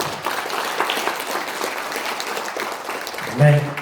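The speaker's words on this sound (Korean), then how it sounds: "박수를 드리겠습니다." Audience applause at a rally in a large parliamentary members' hall conference room, dense sustained clapping filling the room for several seconds, ending with a short louder burst.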